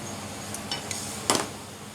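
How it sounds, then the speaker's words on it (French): Three eggs being mixed in a bowl for a lemon tart: a few brief clinks of utensil against bowl, the last one the loudest, over a steady background hiss. "Et à côté, on va mélanger 3 œufs."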